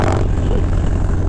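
Harley-Davidson Street Bob 107 with a Milwaukee 8 engine and an aggressive cam, running loud and close in a steady, low, throbbing drone under hard throttle in an upper gear, with no breaks.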